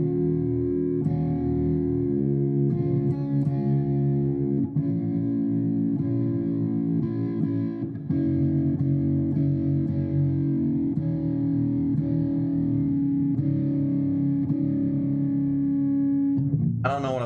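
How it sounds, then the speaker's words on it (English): Sustained electronic tones layered together, their steady overlapping pitches producing difference tones, a continuous loud droning texture with slight shifts and an effects-processed, slightly distorted character throughout. "We got difference tones from Zenpilled."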